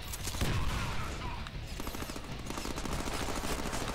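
Dense, continuous gunfire from the Deadpool video game, rapid automatic bursts layered into a loud, steady barrage lasting throughout with no pauses.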